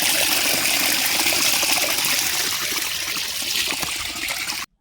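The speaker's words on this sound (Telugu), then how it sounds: "ఇదే అనమాట నేను చెప్పిన వాటర్ ఫాల్." A village waterfall running full after rains, a steady broadband rush of falling water heard fairly close, continuous until it cuts off abruptly near the end.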